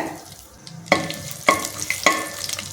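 Whole spices, bay leaf, cloves, cardamom and star anise, frying in hot oil for tomato biryani, a soft sizzle punctuated by three sharp metallic clanks of a spoon stirring against the pan, close.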